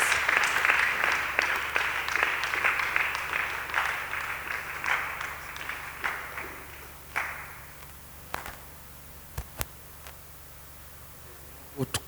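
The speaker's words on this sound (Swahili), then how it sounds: "Tumpigie Yesu makofi wakati baba yetu anakuja kusema na sisi." A church congregation claps loudly and densely at first, then the applause thins and fades into scattered, isolated claps over a quiet room.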